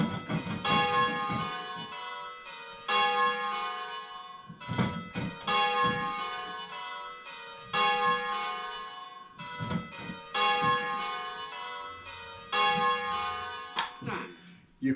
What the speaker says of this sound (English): So now if we ring with our louder bell,